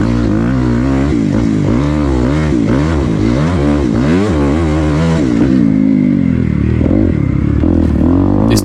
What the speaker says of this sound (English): I'm in love with this new 2020 Suzuki RMZ250.